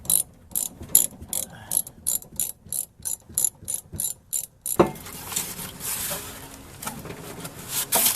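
A hand ratchet clicks in quick, regular bursts of strokes while loosening the rusted muffler on an Infiniti I35, then stops and a louder scraping, clattering rustle of work on the exhaust follows.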